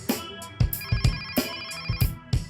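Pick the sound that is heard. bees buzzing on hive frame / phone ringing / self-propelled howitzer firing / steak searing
phone ringing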